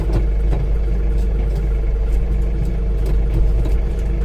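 A lawn tractor engine runs steadily in a yard on a lawn and garden day, a loud, low, continuous idle-like drone close by with small rattles and clicks, no speech.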